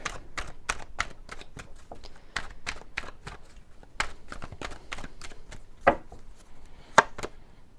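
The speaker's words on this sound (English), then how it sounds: "I will take some cards out" Tarot cards are shuffled and drawn on a table, a quick run of sharp dry taps and flicks in an irregular rhythm, close and fairly crisp, alone without talk.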